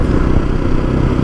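Up close, a Jawa 42 motorcycle engine runs with a dense, steady, loud rumble and mechanical clatter throughout the short stretch.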